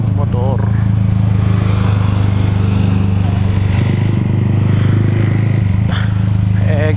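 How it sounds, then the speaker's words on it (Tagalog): A motorcycle engine drones steadily on a night ride, a continuous low rumble with a faint rise in revs, while a rider talks over it. "Sabik na ako magmotor."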